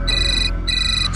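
A phone rings with an incoming call, two bright electronic ringtone bursts separated by a short gap, loud and close with no talking.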